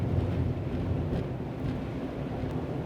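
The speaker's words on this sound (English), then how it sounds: "This my Delica is a little bit loud. It's a diesel. I'm sitting on the engine, so it's not the quietest of rides" A Mitsubishi Delica diesel van drones steadily while driving, with the engine directly beneath the seat: a loud, continuous low rumble with no talk.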